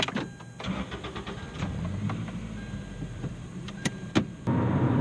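A 2001 Toyota MR2 Spyder started with its key: a few clicks and a whirring crank inside the car, then the engine catches and settles into a louder, steady idle.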